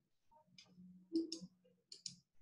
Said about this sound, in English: Whoops, clicking the wrong screen there.